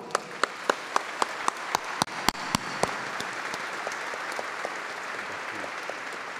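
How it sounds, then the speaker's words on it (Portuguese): At a formal swearing-in ceremony for the Crefito 2 board, a few sharp, separate claps open into fainter, scattered applause from the audience. "Crefito 2, a quem eu peço a salva de palmas"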